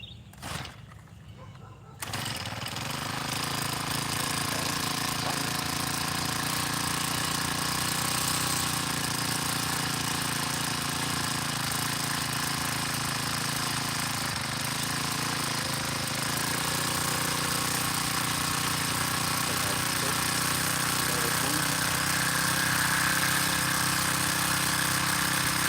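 A small engine is started with the choke on and then warms up at idle outdoors at a garden homestead. After a short sputter, a loud, steady droning hum holds for about twenty seconds.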